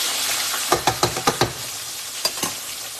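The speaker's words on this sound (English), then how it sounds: "You just frying canola." Pork chops sizzle and pop in hot canola oil, a steady hiss broken by a quick run of sharp crackles and a couple of later pops.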